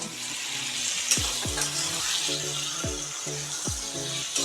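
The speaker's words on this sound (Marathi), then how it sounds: "कमी गॅसवरती आपल्याला तेल सुटेपर्यंत हलवत राहायचे" Soybean chunks with curd and spices cook in oil in a pan over low gas, giving a steady close sizzle under repeated stirring, with occasional scrapes and clinks of the spoon against the pan.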